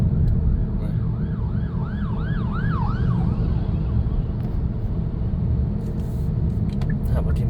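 A rescue vehicle's wailing siren sweeps up and down repeatedly on a street, loud at first and then fading beneath steady traffic rumble.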